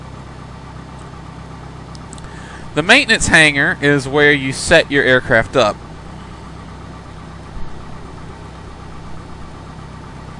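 A Cessna 172 engine idling in a flight simulator, a steady low drone running throughout, with someone talking over it for a few seconds in the middle.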